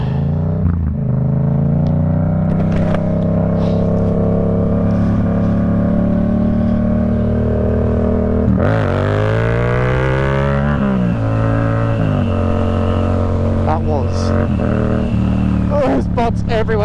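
A Yamaha MT-07 motorcycle revs hard during a wheelie on a road, its engine note climbing and dropping in a sustained loud roar heard from the rider's position, with wind noise throughout.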